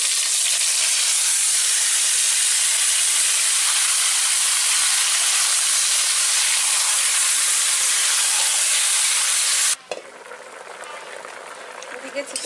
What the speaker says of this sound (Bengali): এবার আমি ম্যারিনেট করে চিকেনটা দিয়ে দিচ্ছি